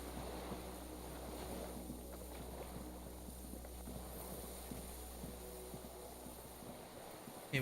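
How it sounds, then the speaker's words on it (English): Faint, steady waterfront ambience from the video game Disco Elysium, with a low distant hum of cargo ships and soft wave wash over the water, and no voices. "The distant sound of cargo ships, signal horns echo on the water."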